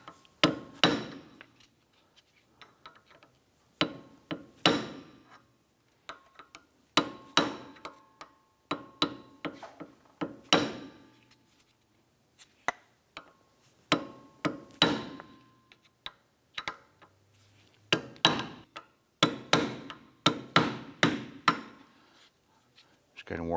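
A small pry bar works a rear wheel hub cap loose on a 2004-2008 Acura TL, giving sharp metallic taps and clicks in irregular bursts with quiet gaps, close by.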